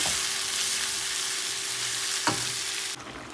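Fish fry with onions in a pan on a home stove, a constant loud sizzle with a brief stirring scrape near the end before the hiss suddenly drops.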